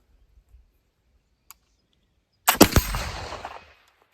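A black powder rifle loaded with bamboo charcoal powder fires once, a sharp loud blast with a trailing rumble and echo lasting about a second, after near silence with a couple of tiny clicks.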